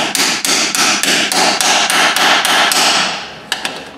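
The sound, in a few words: hammering on ratchet at differential fill plug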